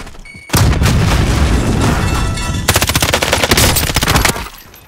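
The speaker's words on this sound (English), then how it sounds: "Grenade out!" A grenade goes off in a video game with a heavy, sustained boom that rolls on for seconds, followed by a stretch of rapid crackling gunfire, loud and close with no talk.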